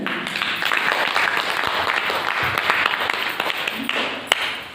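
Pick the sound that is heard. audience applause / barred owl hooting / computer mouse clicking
audience applause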